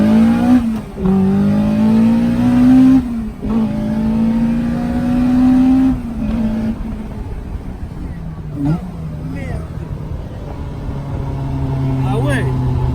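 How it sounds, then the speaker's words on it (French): A car with bucket seats and a roll cage revs and accelerates hard, its engine note climbing in long sweeps close by, with short lifts between pulls; people talk over it in the cabin. "Tu veux que j'accélère un peu là?"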